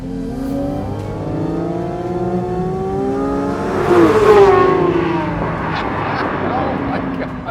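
Porsche 911 GT3 Touring flat-six engine revving hard toward 9,000 RPM on a road, a rising whining roar that swells to a peak midway and then settles into a steady high drone, with a voice talking over it.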